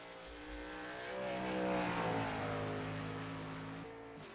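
The engine of a 78 Toyota Tundra race truck in a racing game at Oran Park drones on track, its steady harmonic whine rising in pitch and holding loud through the middle before easing slightly near the end.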